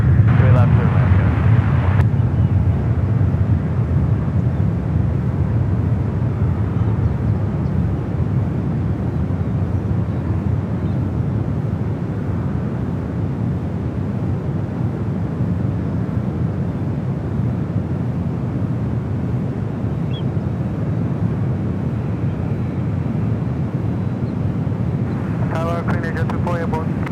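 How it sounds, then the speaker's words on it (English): A Japanese Dreamliner airliner at San Francisco airport gives a loud, steady jet roar that holds for the whole stretch, with a brief voice near the start. "All right, got that Japan Dreamliner."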